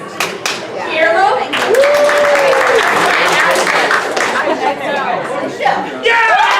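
A studio audience at a live show in a pizza shop applauds for a contestant named Guillermo: sustained, loud clapping mixed with crowd chatter and cheering, with a brief whistle-like tone.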